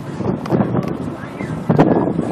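Strong winter wind of about 40 miles per hour buffets the microphone, a rough roaring rumble with gusts swelling and easing, heard alone.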